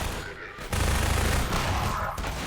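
A grenade goes off in Half-Life 2 as a sudden loud blast, followed by a dense rumbling roar that lingers for about two seconds before easing off.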